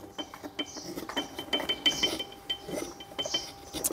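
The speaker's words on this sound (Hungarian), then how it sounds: "szépen lehet vele tollasságot faragni" Close, dry scraping and rasping of a Nextorch MT10 multi-tool knife blade carving wood into feather shavings, in short repeated strokes with small clicks, no voices.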